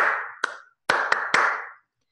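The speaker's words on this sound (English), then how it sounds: "And if they can clap like this," A person claps by hand, first one clap and then three more in a quick uneven burst, each sharp clap followed by a ringing room echo.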